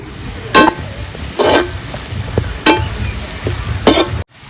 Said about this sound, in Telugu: ఉల్లిపాయలు ఇలా ఫ్రై అవ్వాలండి, పచ్చిగా ఉండకూడదు.